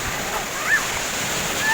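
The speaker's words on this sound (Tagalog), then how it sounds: "Pag sila na naliligo, ang lakas ng alon." Surf rolls steadily onto the sand at Pundaquit Beach in Zambales, a broad continuous wash of breaking waves with no clear pauses and a faint brighter splash near the end.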